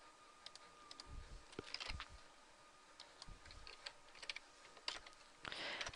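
Numbers being tapped into a calculator during a math lecture, giving soft, irregular clicking key presses in small clusters, quiet and close with no talking.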